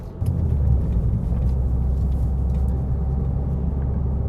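A Fiat 500 Abarth on New Federal SS595 tires rolls slowly through town, its engine a steady, deep in-cabin rumble with smooth road noise throughout and no talk.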